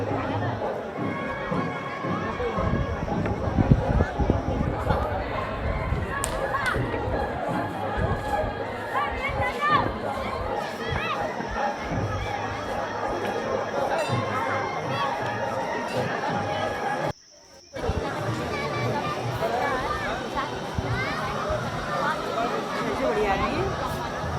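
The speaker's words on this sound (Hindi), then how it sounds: "आप देख सकते हैं चारों तरफ भक्तों की भीड़ लगी हुई है।" A dense crowd of devotees mills around the Vaishno Devi temple, a steady hubbub of many voices and footsteps with occasional shouts, under someone narrating.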